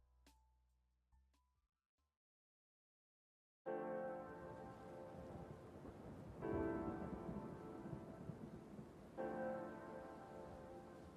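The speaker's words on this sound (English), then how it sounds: "Now there's thunder and lightning in the song." Stormy passage in the soundtrack of the puzzle game A Little to the Left, with thunder and rain sounds: quiet sparse tones, then a loud dense rumbling wash from about four seconds on, swelling in bursts near six and nine seconds.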